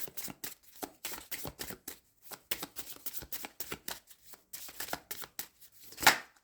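Tarot cards being handled and drawn from a deck, with a run of soft, close shuffling and sliding swishes in quick irregular bursts, ending in a sharper snap as a single card is pulled out.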